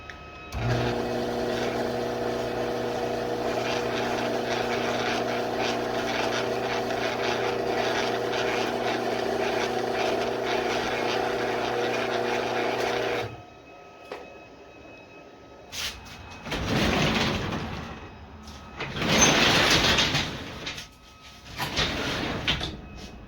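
A garage door opener motor runs steadily as it lowers the door, giving a continuous mechanical hum and rattle that stops partway through, followed by scattered clunks and scraping.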